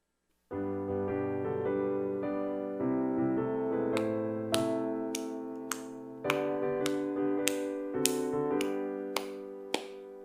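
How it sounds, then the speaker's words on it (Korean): Congregation at an early-morning church prayer service clapping along to hymn 421, sharp evenly spaced claps cutting through sustained tonal hymn music, the clapping growing more regular partway in. "찬송가 421장 박수치며 찬양하겠습니다"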